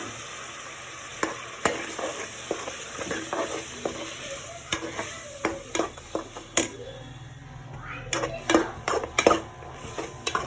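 Ground onion paste sizzles in a pan while a utensil stirs and scrapes, with a steady fry hiss broken by repeated sharp clinks against the metal.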